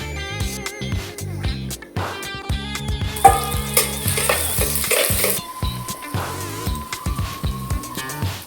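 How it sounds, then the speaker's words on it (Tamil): Onion, ginger garlic paste and cumin sauté in a pan for a Tamil crab curry, with a steady sizzle and frying crackle under repeated stirring and scraping clatter, fairly close and continuous throughout. "சீரகம், அப்புறம் கொஞ்சம் இஞ்சி பூண்டு பேஸ்ட்டு, வெங்காயம் இதெல்லாம் போட்டு நல்லா வதக்கணுங்க"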